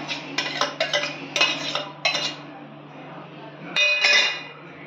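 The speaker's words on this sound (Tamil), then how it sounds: "பனானா போட்டு நல்லா மிக்ஸ் பண்ணுங்கள்" Spoon clinking and scraping against a bowl while banana is stirred into oats and milk for breakfast, a run of close, bright metallic taps in quick bursts, then a pause and a final louder clatter.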